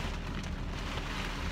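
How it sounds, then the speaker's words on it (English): Steady rain pours down outdoors as a dense, even hiss with no breaks, moderately loud and continuous throughout. "you hear the rain? I love the rain."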